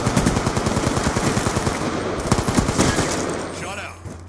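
Rapid automatic gunfire in the video game Black Ops 2, a dense rattling stream of shots that keeps going for about three and a half seconds before trailing off, loud and close with game sounds layered in.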